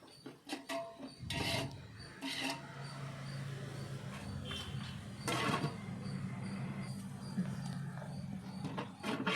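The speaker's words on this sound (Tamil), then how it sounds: "இப்போ வந்துட்டு நம்ம கட் பண்ணி எடுத்து வச்சுருந்த தக்காளியை சேர்த்துக்கலாம். சேர்த்துட்டு நல்லா மிக்ஸ் பண்ணி விட்டுக்கலாம்." Tomatoes are stirred into hot oil in a pan while cooking mutton dum biryani, giving a steady sizzle and scraping with a few louder clatters of the spoon against the pan.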